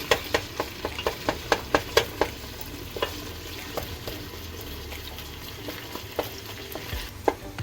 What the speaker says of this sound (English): And then after your 8 to 10 minutes, we're just going to break up all the meat.